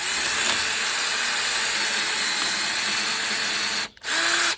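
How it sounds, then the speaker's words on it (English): A power drill whirs steadily and loudly while widening holes with a larger bit over plywood, cutting out abruptly near the end before briefly spinning up again. "we very patiently expand the holes"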